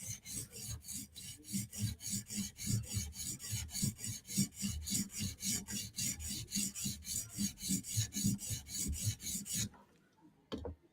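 Steel blade of a Chris Reeve Umnumzaan knife rasps steadily across a sharpening stone in quick, even back-and-forth strokes, close and continuous for about ten seconds before stopping.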